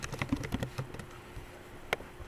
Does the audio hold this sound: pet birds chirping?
no